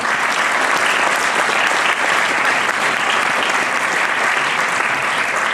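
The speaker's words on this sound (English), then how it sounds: "why don't we all give a really nice big round of applause to all the volunteers of SOAR" Audience at an award show applauding the volunteers of SOAR, dense sustained clapping from a large crowd, steady and loud throughout with no pauses.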